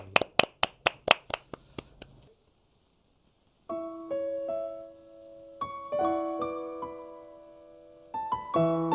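A few crisp hand claps in quick succession from a single nearby person, followed by silence and then sustained piano-like notes in a Korean gospel singing setting.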